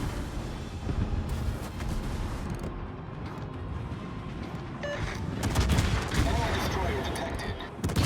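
Warship guns fire in World of Warships aboard the Italian cruiser Piemonte, booming over a dense rumbling battle bed, with a heavier burst of firing toward the end.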